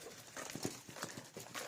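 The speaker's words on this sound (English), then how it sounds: "I'm just going to wheel my trolley" A feed trolley is wheeled along a stony farm track, giving an uneven run of clattering, knocking bumps at close range with no talk.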